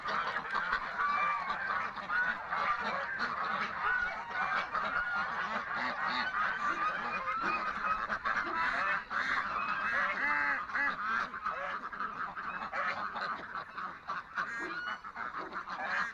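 A flock of ducks and geese honking and quacking continuously, a busy, overlapping chorus of birds close by.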